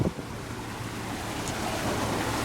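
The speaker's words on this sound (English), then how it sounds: "Water stream everywhere." A mountain stream near Bear Lake in Rocky Mountain National Park, a steady broadband rush of flowing water, loud and close, with some wind buffeting on the microphone and no talk.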